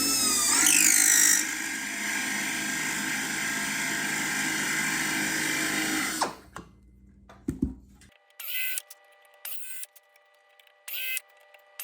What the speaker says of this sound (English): Once I've got it all set up, then I can go ahead and make the actual countersinks and the spar doubler.